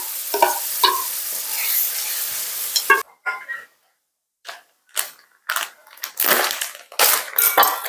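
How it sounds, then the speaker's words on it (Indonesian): Ground spice paste for tom yum sautéing in a pan, with bursts of stirring and scraping broken by short pauses, loud and close, with no talk. "Ini bumbunya udah dihalusin, ditumis dulu sebentar."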